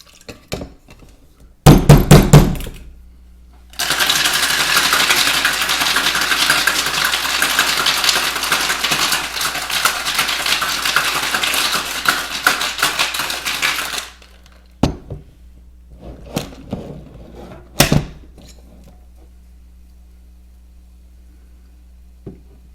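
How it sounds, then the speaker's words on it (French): A cocktail shaker full of ice for a maple Cosmopolitan rattles loudly and rapidly for about ten seconds. A short clatter comes before it, and a few sharp knocks and clinks follow. "On envoie tout ça au shaker et on va brasser jusqu'à ce que ça soit bien froid."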